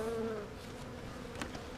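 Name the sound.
honeybees buzzing at an open hive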